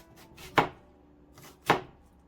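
Two crisp chops of a not-very-sharp kitchen knife slicing through an onion, roughly a second apart, close and clear with quiet pauses between strokes.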